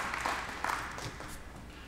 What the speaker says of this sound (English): I want to give a round of applause to whoever put that together